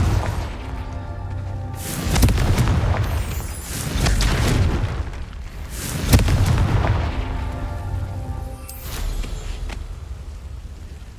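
Repeated Confringo fire spells exploding in the video game Hogwarts Legacy: loud booming blasts around 2, 4 and 6 seconds with crackling, fiery tails over a steady rumbling game background.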